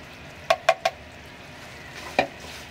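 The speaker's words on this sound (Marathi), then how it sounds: "हे ड्रायफ्रूट्स आता मिक्स करून घ्यायचं, म्हणजे कसं तुपाचा फ्लेवर येतो आणि थोडे ते पण रोस्ट होतात" Chopped cashews and almonds stirred as they roast in ghee, with three quick spoon knocks against the pan followed later by a fourth, over a soft, low sizzle; no one speaks.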